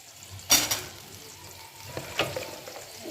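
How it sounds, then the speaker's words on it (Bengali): Potato pieces frying in a pan before beans and eggplant go in, giving a steady low sizzle with a sharp stirring clatter near the start and another lighter scrape later, no talking. "বেগুন আর শিম নরম, তাই জন্য আলুটা আগে ভালো করে ভেজে নিলাম"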